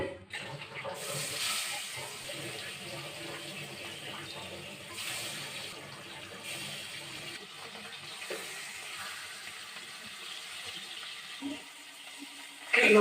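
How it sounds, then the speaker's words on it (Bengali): Fish rubbed with salt and turmeric fries in a pan in a home kitchen, giving a steady, fairly loud sizzling hiss that runs unbroken through the whole stretch, with a few small crackles near the end. "নুন হলুদ মেখে নিয়েছি মাছে এবারে ভাজা করব"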